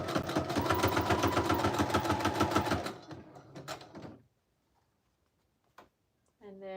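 A sewing machine stitches layered fabric for a Halloween and fall junk journal, running in a fast, steady mechanical rhythm for about three seconds, then stopping, followed by a few light clicks and quiet handling.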